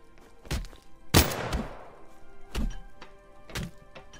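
Axe strikes in the survival game The Front: a handful of heavy, dull thunks land at irregular intervals, with one louder crack-like hit standing out, all fairly close and with no talk over them.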